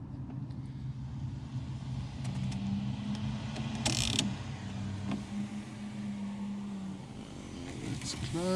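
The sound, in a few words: VW car sunroof opening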